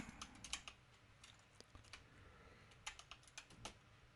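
Light typing on a computer keyboard, with quick irregular bursts of clicking keys, quiet and close, and no voices.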